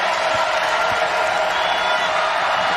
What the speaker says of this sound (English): The crowd starts to get into it.